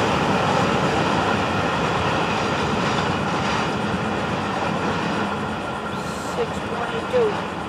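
Florida East Coast freight train FEC 101 passing close by, a steady, loud broadband rumble of rolling cars and wheels on rail with a brief squeal near the end.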